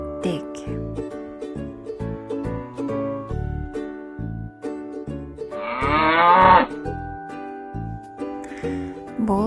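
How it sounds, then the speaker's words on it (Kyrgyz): A cow gives a single drawn-out moo about midway through, rising over steady background music. "Бул үй жаныбарынын аты уй."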